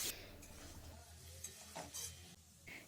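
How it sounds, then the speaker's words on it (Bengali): Chopped onions frying lightly in refined oil in a wok, a steady soft sizzle with occasional stirring scrapes, close and quiet. "ফার্স্টে কড়াইতে আমরা কিছুটা রিফাইন অয়েল দিয়ে দেবো তার মধ্যে ঝুরি করে কেটে রাখা কিছুটা পেঁয়াজগুলোকে এখানে হালকা ফ্রাই করব"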